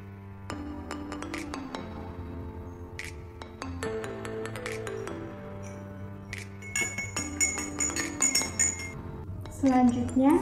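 Repeated bright glassy clinks of a spoon against a drinking glass, scattered irregularly over a low hum, with a busier flurry of taps near the end.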